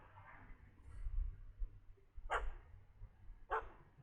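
A dog in The Witcher 3 gives two sharp barks about a second apart, set against a low rumbling ambient bed and a faint high whine earlier on.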